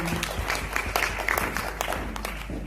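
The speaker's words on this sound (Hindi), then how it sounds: "जोरदार तालियां चंपति जी के लिए" Audience applause for a colleague at a sales training session, dense steady clapping from a seated crowd throughout, fairly close and moderately loud.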